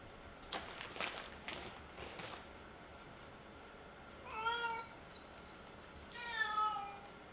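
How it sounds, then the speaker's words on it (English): A house cat meows to be let outside, giving two drawn-out, pleading meows a couple of seconds apart after some faint clattering in a quiet kitchen. "the cat wants to go outside."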